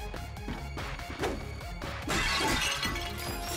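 Objects shatter and smash in Ratchet & Clank on PS4, a run of sharp crashes and breaking impacts over game music, rising to a louder burst of debris near the end.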